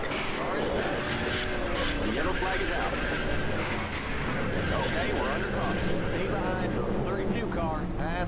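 In NASCAR Racing 2003, a race car roars at speed and slams into the wall, loud engine noise and crunching impact filling the stretch while someone talks over it.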